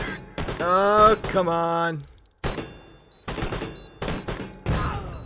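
Frag grenade blasts and gunfire in Door Kickers 2, a hard map: a series of sharp, loud bursts separated by short gaps, with a voice speaking over the first part.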